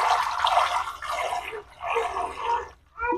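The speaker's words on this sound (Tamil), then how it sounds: "ஒடியல் மா ஊற வச்சுனா தானே மறுபடியும் இந்த தண்ணியை வடிய வைக்க போறேன், வடிக்க போறேன்" Water drains from soaked odiyal flour while making Jaffna odiyal kool, a loud rushing, splashing pour in several long surges with brief pauses between them.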